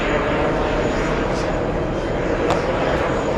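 Airplane taking off at JFK airport, a loud, steady jet roar filling the whole stretch with broad rumble and hiss, continuous and close, no pauses.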